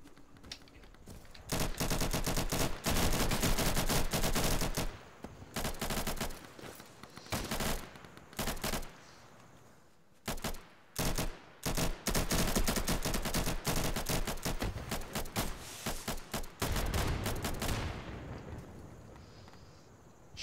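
Gunfire in the tactical shooter game Insurgency: long, loud bursts of rapid automatic fire broken by short pauses, with dense, continuous rattling volleys that run nearly the whole time.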